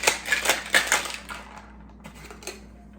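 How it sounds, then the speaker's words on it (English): A cocktail shaker holding a juice mocktail and ice gets shaken in a burst of rhythmic rattling clatters, loud and close, then slows into a few scattered knocks as it winds down, with no talking. "And then I will shake that up."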